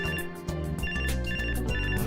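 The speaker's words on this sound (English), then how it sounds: "phone begins to ring, cutting her off mid-sentence" A telephone rings in the game Robotics;Notes Elite, a loud electronic ringtone pulsing in quick repeated bursts over a sustained musical tone, with no talking.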